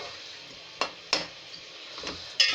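Minced meat keema with spices fries quietly in a pan, its soft sizzle broken by several sharp clinks of a spoon stirring against the metal.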